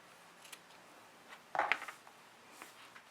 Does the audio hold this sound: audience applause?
no